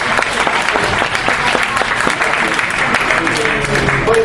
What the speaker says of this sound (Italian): va bene anche l'applauso